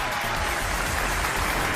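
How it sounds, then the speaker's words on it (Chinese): Studio audience clapping steadily throughout, a dense even wash of applause welcoming a couple onto a Chinese relationship-mediation TV show stage, with faint music underneath. "掌声有请这一对"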